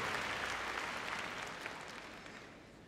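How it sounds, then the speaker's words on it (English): An arena audience at Crufts applauds a heelwork-to-music freestyle dog performance, a dense wash of distant clapping that holds steady and then slowly tapers off, with no voices over it. "we can give Jules a bit of a round of applause"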